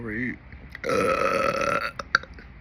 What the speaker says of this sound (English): And burp for them for a little bit.